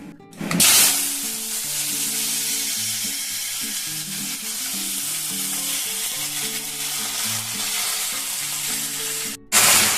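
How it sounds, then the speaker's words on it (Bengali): Vegetables, including large cauliflower florets, fry in a little oil for a winter-vegetable dal, giving a loud, steady sizzle with rhythmic stirring scrapes throughout and a sharp burst as they first hit the pan. "তো চলুন এখন সবজিগুলো একটুখানি তেলে ভেজে নেব।"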